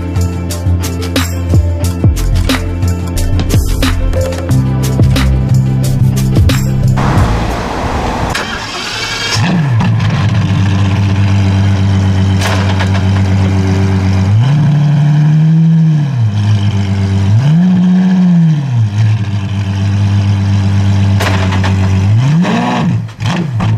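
An Apollo IE supercar at a supercar owners' event, stalled with some fault, starts up loudly, then settles into a rough idle broken by several sharp, rising revs close by. No voices.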